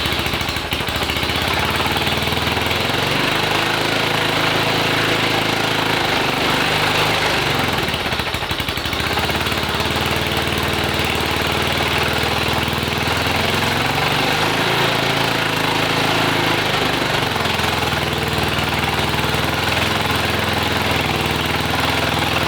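Go-kart engine on a reverse trike build, running steadily with its carburetor breather line popped off, a loud continuous close-up drone with a brief rough wobble midway.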